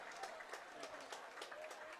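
A crowd at a high school football game between Wilmington High and the Burlington High Red Devils cheers and applauds, a dense, steady wash of clapping and voices from the stands that holds throughout.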